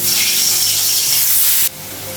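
Dried red chillies dropped into hot oil in a kadai on a gas stove give a loud, close, hissing sizzle that holds steady, then falls off abruptly toward the end.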